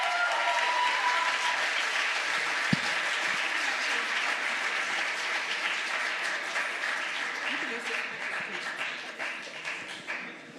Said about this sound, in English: All right, give a round of applause to Adam Gaffney.